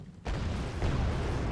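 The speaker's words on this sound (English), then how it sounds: "internal ammo explosion" Internal ammunition explosion of a vehicle in the real-time strategy game Wargame Red Dragon, a sudden loud burst followed by a sustained rumbling roar that stays dense and heavy to the end.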